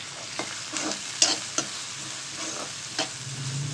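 Large onions, slit green chilies and curry leaves frying in oil while being stirred for a chicken curry, a steady sizzle punctuated by a few spoon scrapes and clinks.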